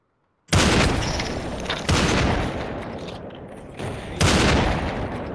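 Bursts of rapid gunfire from the VR battle game Population One, loud and close, arriving in three distinct volleys with short pauses between them.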